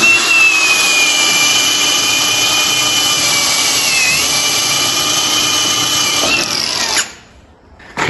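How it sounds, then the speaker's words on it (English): Power tool sanding a car's steel stub axle, a loud steady whine holding for about seven seconds before cutting off abruptly near the end. "so we just realised we need to straighten the stub axle now, so I'll sand it up there"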